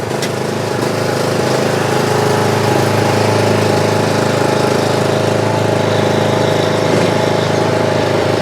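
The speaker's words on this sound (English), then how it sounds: "Now I'm just gonna hop on my mower and we're gonna ride off and go get things done." A riding lawn mower engine runs at a steady, loud drone throughout, with a constant mid-pitched hum and rumble and no pauses or speech.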